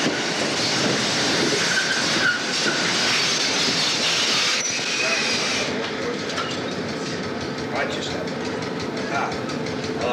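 An eastbound Erie Lackawanna electric multiple-unit train rumbles past near Far Hills, New Jersey, with a steady mechanical roar and faint rhythmic clatter of wheels on rails, settling into a quieter hum.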